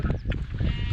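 A short sheep bleat rises over steady outdoor wind and rain on a mountain, close and fairly loud, lasting under a second.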